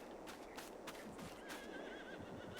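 Horses on a Farming Simulator 22 farm give out sharp whinnies and neighs with light hoof clops, several short calls rising over a soft steady background, quiet overall and heard without talking.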